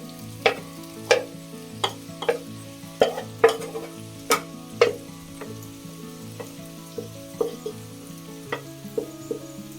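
Vermicelli stirs in a pan over low flame for upma, with a soft sizzle under a run of sharp, regular spatula taps and scrapes against the pan, close and without talk.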